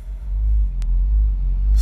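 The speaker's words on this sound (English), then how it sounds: "As more dump trucks pass right by me." Dump trucks pass close by on a road, a heavy low rumble swelling and holding, with one brief sharp hiss partway through.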